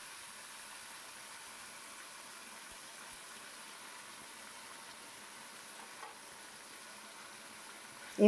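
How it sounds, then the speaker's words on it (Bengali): Small mourola fish fry in oil in a kadai, a soft, even sizzle that holds faintly and steadily throughout without any talk. "এবার মাছগুলো আমি ভাজা করে নেব।"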